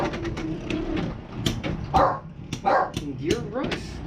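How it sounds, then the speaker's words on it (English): A dog barks close by in several loud, sharp bursts, some rising into yips, mixed with a person talking. "I do apologize for my dog."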